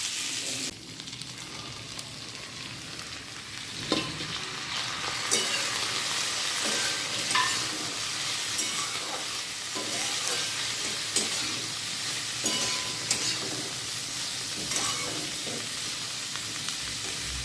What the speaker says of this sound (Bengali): এবার একটু করে এটা কিছুক্ষণ পর পর নাড়তে হবে, পরে লবণ দেব, একটু ভাজা ভাজা হোক।